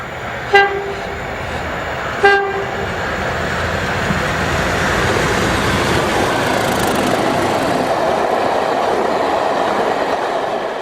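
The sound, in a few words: pair of locomotives hauling a railtour charter train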